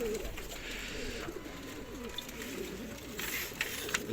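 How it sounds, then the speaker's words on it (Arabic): Pigeons coo softly in low, rolling calls against a steady background hum, fairly faint and unhurried. "حمام."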